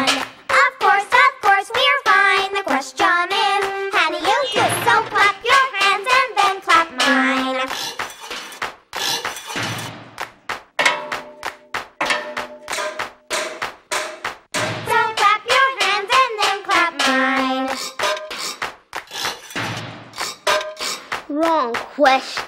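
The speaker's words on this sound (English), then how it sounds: "Don't clap your hand and then clap mine." Sharp hand claps from a children's clapping game patter in quick rhythmic patterns beneath sung voices and melody, steady and close throughout.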